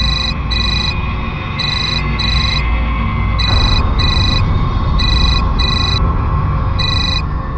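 A mobile phone rings with a loud electronic ringtone in regular repeated bursts, steady and close, with no voices over it.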